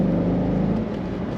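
A low-mile 2003 Chevrolet Corvette 50th Anniversary convertible with a six-speed manual transmission accelerating, a steady low engine drone heard from inside the car, moderately loud and continuous.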